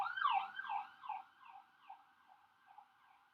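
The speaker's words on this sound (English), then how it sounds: "there's an ambulance just driving by my window." An ambulance siren passing outside a window, its wailing yelp repeating in quick cycles and fading steadily as the vehicle moves away, heard faintly indoors with no other sounds.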